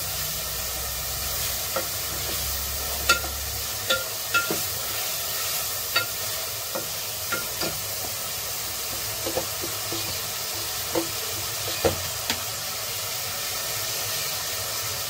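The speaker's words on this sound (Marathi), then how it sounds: "आपला कांदा ना मस्त असं शिजवून घेऊया" Onion with ginger-garlic paste fries and is stirred in a pan, a steady sizzling hiss broken by repeated sharp spatula scrapes and taps at irregular intervals.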